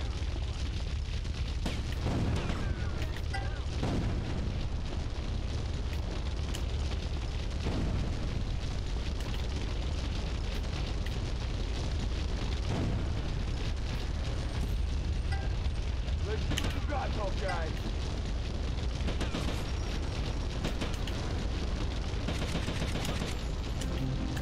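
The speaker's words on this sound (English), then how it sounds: "Start chucking grenades." Grenade explosions go off in GTA Liberty City Stories, heavy booms and scattered gunfire filling a dense, unbroken combat din with no pause.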